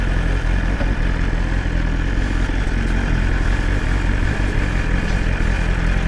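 A BMW S1000 RR M Carbon motorcycle in race riding mode runs with a loud, steady engine drone and a continuous metallic rattle like metal on metal, traced to a suspension noise on the new bike; no voices.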